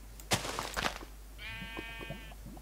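A sheep bleats in the video game Orecraft, a single short wavering bleat that stands out clearly over quiet background clicks and soft thumps.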